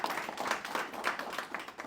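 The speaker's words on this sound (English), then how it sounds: "Let's give him a round of applause right now." An audience at a Green Growth Kupu Corps launch event in Saipan applauds, a steady wash of many hands clapping together, moderately loud and continuous.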